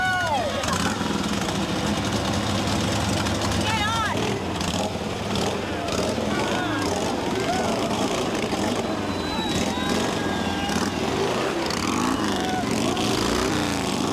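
Motorcycle engines idle and rumble at the Sturgis rally in 1990, a continuous loud engine drone with revs rising and falling amid crowd noise and voices.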